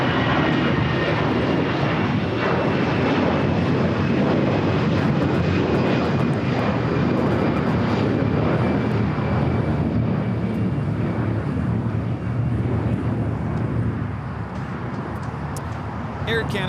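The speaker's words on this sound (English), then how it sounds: "Air Canada 792 taking off to Toronto on the A320" Air Canada Airbus A320 airliner taking off at LAX, a loud sustained engine roar with a thin whine, easing slightly near the end, with people talking underneath.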